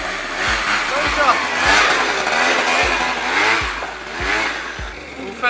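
A Booster scooter accelerates in repeated revving pulses, its mid-pitched engine rising and falling in a steady rhythm, close and loud, with a voice partly audible over it.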